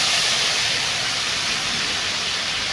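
Ground spice paste hitting hot oil in a pan before cooking shing fish with bottle gourd, a loud, dense, continuous hiss filling the whole moment with no break.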